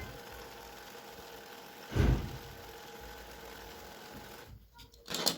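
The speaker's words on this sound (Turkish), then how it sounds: "Şimdi 2 numarayla burayı da dikiyorum." A domestic sewing machine stitches fabric at stitch length 2, giving a steady, close mechanical whir with a louder thump partway through and a brief pause near the end; no one speaks.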